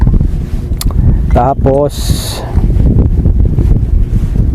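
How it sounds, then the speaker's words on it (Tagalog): Strong wind blowing outdoors while cooking on a fishing trip: loud, continuous gusty rumble buffeting the microphone throughout, with someone speaking briefly over it and a short hiss midway. "Mahangin ah."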